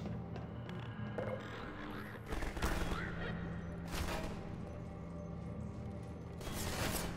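Enemy gunfire in the Half-Life 2 video game: several loud bursts of rapid shots over a constant rumbling game backdrop, with the heaviest burst early and more volleys following.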